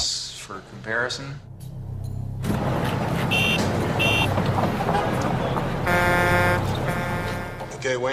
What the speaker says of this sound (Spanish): Ahora el ruido de tráfico para compararlo.